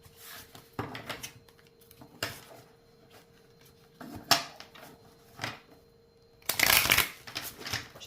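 Tarot cards being handled and shuffled close up in bursts of riffling and flicking, with quiet gaps between them and a longer, louder shuffle near the end.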